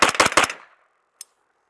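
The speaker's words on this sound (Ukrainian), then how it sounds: "Я стрілятиму як зазвичай." A world champion shooter fires a pistol three times in a quick, sharp burst, close and loud. After a short silence there is one faint click.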